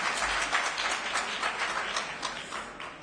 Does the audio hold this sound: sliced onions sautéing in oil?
no